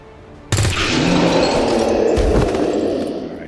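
Gunfire in a video game, a loud sharp blast that bursts in and rolls on as a dense sustained roar of shots, with a second hit partway through.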